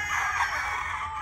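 A young battle stag rooster on a farm lets out a single short, close crow that cuts off quickly.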